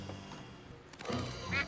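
In the Escape from Monkey Island video game, a duck gives a short, nasal quack over a low game background hum, with a couple of brief squawky bursts near the end.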